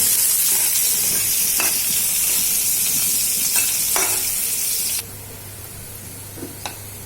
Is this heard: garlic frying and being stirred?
yes